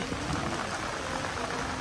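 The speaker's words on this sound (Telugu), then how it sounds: "ఫుల్ వర్షం మస్తు పడుతుంది అసలు" Heavy rain pours at a temple, a steady, loud, close hiss of falling water with no break throughout.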